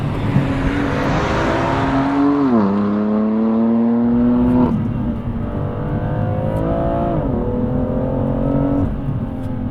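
Engine of a BMW 2-series heard from inside the cabin, a loud steady drone that rises in pitch, dips at a gear change, then holds and drifts slightly, with no talking.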